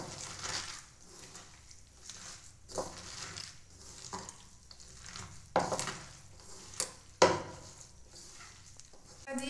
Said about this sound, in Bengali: এই সব কিছু আমি একসঙ্গে ভালো করে মেখে নেব।